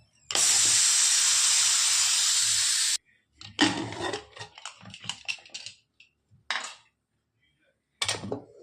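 Steam hisses loudly and steadily from a pressure cooker after cooking carrot halwa, a close, sustained blast of nearly three seconds that stops abruptly, followed by scattered clinks and handling clatter.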